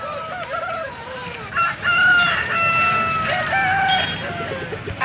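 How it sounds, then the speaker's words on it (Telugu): Rooster crowing at a busy chicken market in Pileru, a long loud cock-a-doodle-doo rising near the middle, with clucking fowl and background crowd murmur around it. "ఈ కోడి బాగా యాక్టివ్గా ఉంటుంది"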